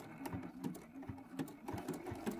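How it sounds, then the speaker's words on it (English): A sewing machine stitches a small mouth onto a fusible gingerbread man applique quilt block, producing quiet, close, evenly repeating needle thumps at a slow steady rhythm. "I'm going to stitch out a little mouth on each one of them"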